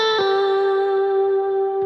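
A sustained electric guitar note rings out with a lush Valhalla Vintage Verb reverb tail, shimmering and smooth, with a second note picked near the end.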